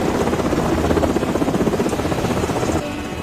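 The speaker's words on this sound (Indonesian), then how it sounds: "Setelah helikopter pengangkut mendarat" Transport helicopter landing in the 2003 war film Tears of the Sun: a loud, close, rapid rotor thump that pulses evenly, then drops slightly in level near the end.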